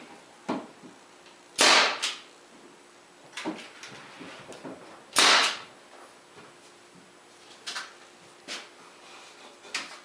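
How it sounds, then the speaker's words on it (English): Brad nailer toenailing 1 1/4 inch brads into wood drawer parts during a bedside table build: two loud sharp pneumatic bangs with softer knocks and handling clatter between, close and without talk. "I'm just going to toenail in 1 1/4 inch brad into each one"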